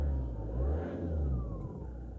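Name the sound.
car engine idling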